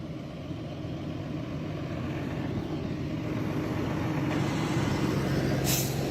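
A truck with air brakes idles a short distance away in a driveway, giving a steady, continuous low diesel rumble with a faint hiss that stays at an even level throughout, with no talking.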